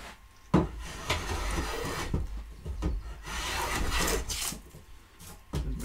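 A hand plane shaves pallet wood stock in repeated close strokes, each a rasping scrape followed by short knocks as the plane is set down or repositioned.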